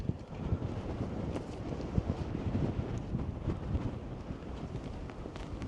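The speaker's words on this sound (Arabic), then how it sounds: "ويلي راه كيدور عليا الريح" Strong wind buffeting the microphone on an open road, a steady roaring rumble with gusty surges that runs the whole time, loud and close, with no talking.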